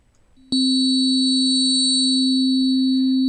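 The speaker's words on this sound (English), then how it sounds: "we have little tiny sine waves inside of a sine wave" A steady pure electronic synthesizer sine tone with modulation switches on abruptly and holds loudly, with faint high overtones shimmering above it and a soft wash entering near the end.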